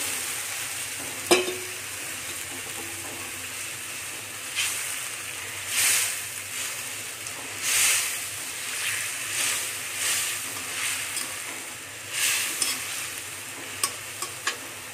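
Kali Baush fish in a pan with water added simmers softly while a utensil stirs it in several swells of scraping and bubbling, close and fairly quiet, with no talking.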